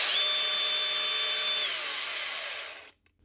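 A faulty Dewalt power tool runs with a high, strained whine for under three seconds, then winds down and stops, close and alone.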